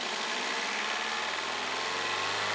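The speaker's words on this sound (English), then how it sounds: "Start the engine. After 3 to 5 seconds, slowly depress the throttle to raise engine speed." A car engine runs steadily during an in-cylinder pressure test, giving a continuous close hum with a low rumble and no distinct start or rev change.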